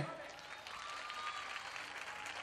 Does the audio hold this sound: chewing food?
no